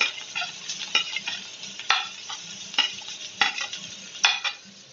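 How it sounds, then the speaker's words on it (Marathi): Finely chopped onion going into a hot pan with ginger, garlic and salt for puri bhaji, sizzling steadily while a utensil scrapes and stirs in quick irregular strokes, close and moderately loud. "आणि हा बारीक केलेला कांदा टाकायचा."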